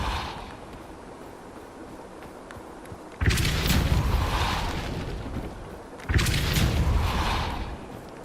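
Two forceful whooshing blasts of the Depulso spell cast in Hogwarts Legacy, each a sudden loud burst that fades over a couple of seconds, with a quieter stretch before the first.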